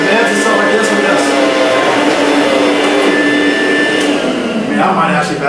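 A Kirby vacuum cleaner running on its high setting, a loud steady motor whine and rushing airflow that holds constant throughout, with a voice talking faintly underneath.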